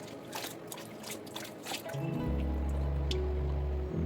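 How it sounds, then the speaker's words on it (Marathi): Fresh coriander leaves are rinsed in water with light drips and splashes, followed by a steady stream of water pouring near and loud. "आता पुढची आणि महत्त्वाची स्टेप म्हणजे कोथिंबीर स्वच्छ धुवून काढणे"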